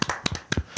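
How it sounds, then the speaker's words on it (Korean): A few sparse hand claps from a small studio audience as a guest is welcomed onto a Korean talk show, quick scattered slaps rather than a full ovation. "박수!"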